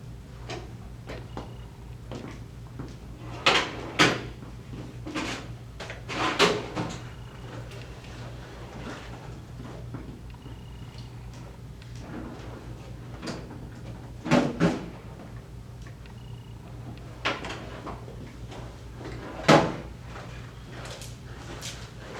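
Classroom drawers are pulled open and rummaged through, giving a few scattered clunks and wooden knocks against a quiet room hum, with long still gaps between them.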